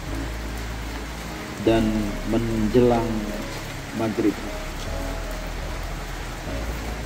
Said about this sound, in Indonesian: cuaca sedang hujan